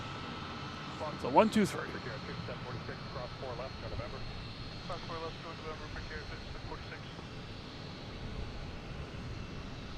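Jet airliners at Boston's Logan Airport, including JetBlue arrivals, make a steady distant roar that lasts throughout, while a person talks over it.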